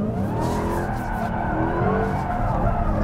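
2021 Dodge Charger SRT Hellcat Redeye Widebody spinning one big donut: a heavy supercharged engine drone with wavering pitch under steady, loud tire squeal and skid noise, sustained and close without pause.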